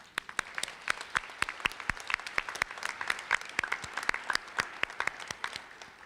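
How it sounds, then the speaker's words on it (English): A crowd applauds steadily, many hands clapping in a dense, sustained patter that fades slightly toward the end. "So I'm going to give you another round of applause"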